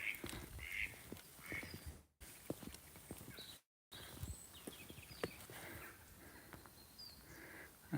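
Ducks quack in bursts by a woodland walking path in autumn, several calls close by, mixed with footsteps and other scattered outdoor noises.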